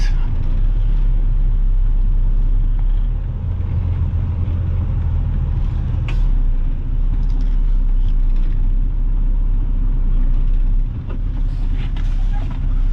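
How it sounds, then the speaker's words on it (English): A pickup truck creeps its tires up onto a trailer ramp beside a tipper, its engine a steady low rumble that stays close and continuous, with wind buffeting the microphone throughout. "Now I just got to drive my tires of my truck up on there"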